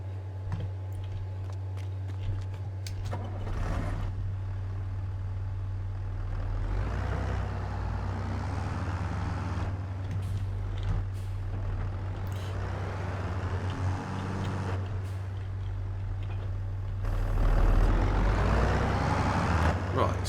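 Semi truck with a 130 horsepower engine in Farming Simulator 22, a steady low engine drone running throughout with occasional air brake hiss, under speech.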